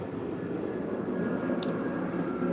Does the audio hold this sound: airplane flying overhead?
yes